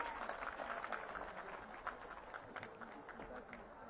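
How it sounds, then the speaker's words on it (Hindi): Audience applause for children at a Viksit Bharat Sankalp Yatra event in Varanasi, a faint steady wash of clapping from a crowd lasting the whole stretch, with a voice speaking over it. "जोरदार तालियां इन बच्चों के लिए"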